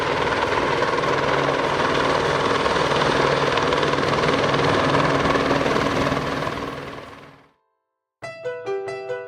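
A helicopter flies over a wind farm construction site in a steady loud rotor and engine roar that fades away to silence, after which music begins.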